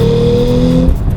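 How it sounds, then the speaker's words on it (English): A 2018 Porsche 911 Carrera 4 GTS with a turbocharged engine and sport exhaust, giving a loud, close, steady engine drone with a clear humming pitch during a short burst. "There are some that are frustrated with the sound of the new turbocharged engines"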